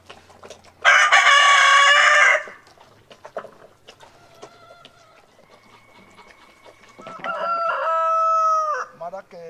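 Chickens and ducks at feeding time on a farm: a loud burst of crowing and clucking up close, then scattered clucks and quacks, with another cluster of calls near the end.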